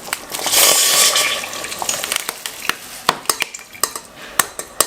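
Liquid pours with a rushing splash for about two seconds, followed by a run of sharp metallic clinks and taps against a pot.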